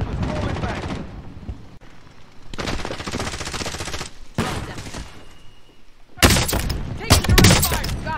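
A multiplayer shooter video game on a payload map produces repeated bursts of rapid gunfire in three loud volleys separated by short pauses, with the last volley the most intense.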